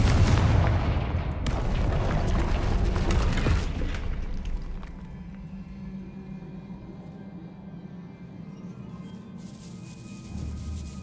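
Blasting spell explosions go off in the Hogwarts Legacy video game, heavy booming bursts up front that fade into a low rumbling, mechanical hum, with another burst at the very end; no voices.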